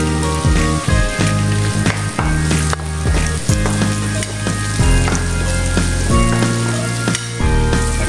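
Garlic sizzles and fries loudly in a hot pan for a Filipino chicken and string bean adobo, a dense continuous crackle with occasional stirring clatter, close and with no voices.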